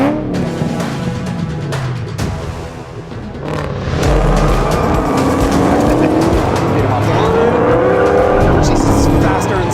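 A Ford Mustang Shelby GT500 races on an empty airfield, its engine roaring loud and close as it accelerates through the gears with climbing revs, while voices talk over it.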